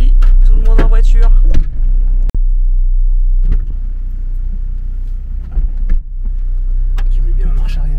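A car starts off with a steady low engine rumble, near and fairly loud, while people talk briefly over it at the start.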